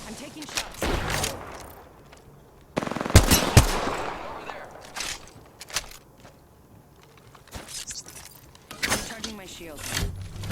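Rapid gunfire in the video game Apex Legends, with bursts of automatic fire, a loud cluster of shots midway and scattered shots later, interleaved with a player talking over the game.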